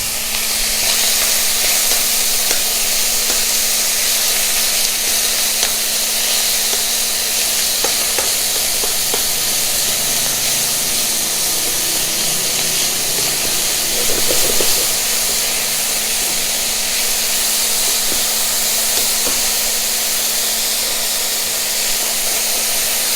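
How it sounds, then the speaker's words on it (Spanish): Meat searing in a frying pan while a Bolognese sauce is being made, giving a steady, continuous sizzle and hiss with faint stirring scrapes throughout, close and even in level, with no talking. "una vez sellada nuestra carne, vamos a retirar de nuestra sartén"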